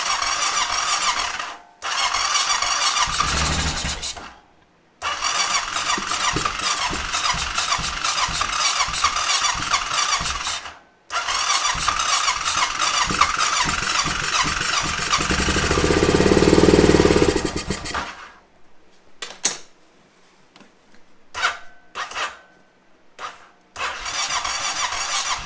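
Choked Honda Rincon ATV engine cranking and catching in repeated bursts, loud and close, with short pauses between attempts, then the motor cutting out into scattered sputters and clicks as the battery weakens.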